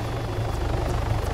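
Helicopter in the video game Arma 3 flying steadily, a loud continuous rotor thump and engine drone throughout, with no talk.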